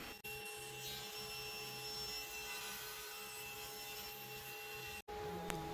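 A saw trims the edges of an epoxy and wood charcuterie board in a steady, even grinding drone that holds throughout, close and alone, then cuts off abruptly near the end.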